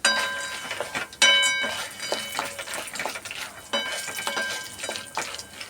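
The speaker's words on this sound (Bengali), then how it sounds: "আর এদিকে একটু বাদাম ভাজছি মুখরোচক খাওয়ার জন্য, লবণও দিয়ে দিয়েছি" Peanuts with salt and broken green chillies are stirred and fried in a pan, giving repeated scraping, rattling strokes over a light sizzle, close up with no talk.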